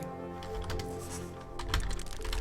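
Computer keyboard typing while playing Epistory, a quick run of light clicking keystrokes set against steady background music, growing a little busier toward the end.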